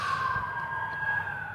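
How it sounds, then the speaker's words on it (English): An ambulance siren wails steadily outside, a loud two-tone whine holding through the whole moment over low traffic rumble. "You hear those ambulance engines going."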